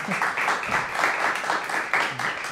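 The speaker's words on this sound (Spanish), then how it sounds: "si le brindamos un aplauso a la licenciada Mayra Navarro" Brief applause for Licenciada Mayra Navarro after an interview, a short burst of clapping from a modest audience, fairly close.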